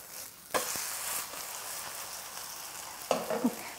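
A perilla leaf jangtteok pancake sizzles in a pan just after flipping: a steady, close frying hiss, with clatters from the pan or utensil near the start and again toward the end.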